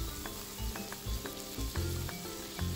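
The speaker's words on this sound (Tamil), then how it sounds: "தக்காளியும் ஆட் பண்ணிவிட்டு நல்லா வதங்க விட்டுக்கோங்க." Chopped tomatoes sautéing in a pan for Saidapet vada curry, a steady close sizzle with soft periodic stirring scrapes over about three seconds.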